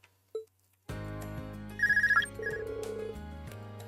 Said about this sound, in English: Uh-oh. Phone just rang.